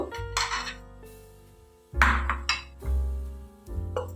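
Small mourala fish tipped into a bowl in a Bengali home kitchen, giving a few close, bright clinks and knocks of metal or ceramic in short bursts.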